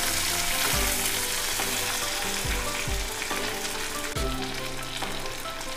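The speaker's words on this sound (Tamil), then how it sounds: "வெங்காயம் நல்லா ப்ரௌன் ஆகிற வரைக்கும் வதக்கிக்கோங்க." Large onions sizzle and fry as they are sautéed in a pan at home, with a steady crackle broken by repeated thumps and scrapes of stirring.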